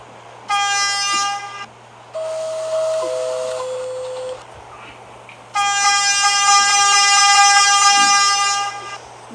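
A PATH subway train sits at a platform, sounding repeated loud door-warning chime tones over a steady low hum of the idling car.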